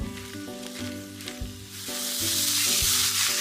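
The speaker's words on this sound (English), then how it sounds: "start by stir-frying the vegetables first." Komatsuna and maitake mushrooms sizzle in a hot oiled pan, the hiss swelling as pieces are stir-fried and tossed, with occasional clinks of a utensil.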